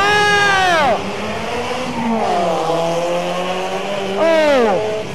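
Race cars scream past on a track, a high-revving engine whining down in pitch as it passes close, a lower engine droning through the middle, then another loud pass-by with falling pitch.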